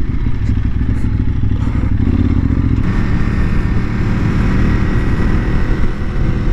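Motorcycle riding along a road, its engine a loud steady drone mixed with wind rush and rattling clatter, close and continuous throughout.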